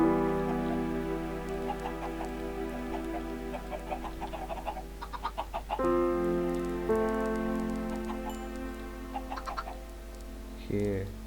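Chickens cluck in Minecraft in short rhythmic bursts, mixed under continuous game music with sustained tones, with a brief pickup-like pop near the end.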